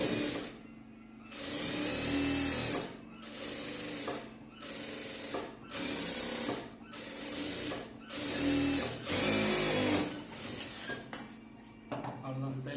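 A sewing machine stitches chudithar fabric in bursts of steady rapid clatter, pausing briefly between runs, close and loud; a voice speaks faintly beneath it.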